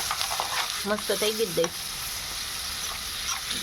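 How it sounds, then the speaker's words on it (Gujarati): Curd tempering sizzles in a hot pan with a steady crackling hiss throughout, while a person briefly speaks over it partway through. "જો દહીંનો વઘાર ચાલુ થઈ ગયો"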